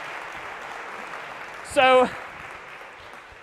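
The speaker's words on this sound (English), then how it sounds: "But a round of applause if we could." An audience applauds in a lecture hall during a university computer science course, a steady wash of clapping that continues through the clip while a voice briefly speaks over it.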